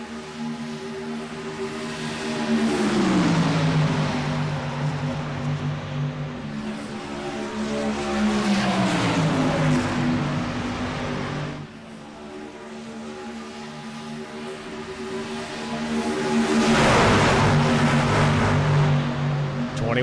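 Racing trucks roar around Atlanta Motor Speedway in an IROC Challenge Series race, engines surging in loud passes that swell, shift pitch and fade, one pack after another, with no voices over them.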